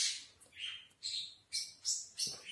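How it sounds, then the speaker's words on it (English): Birds chirp outside in a rapid series of bright, loud whistled calls, several close phrases in a row with no talking. "the birds are making a lot of noise"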